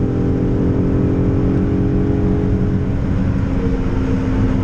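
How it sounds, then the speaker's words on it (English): A Volkswagen Corrado engine held at wide open throttle while warming up for a smog test, a loud, steady, droning roar close by with a rich low rumble and no pauses. "It's just get it nice and warm by running it through a few cycles at wide open throttle."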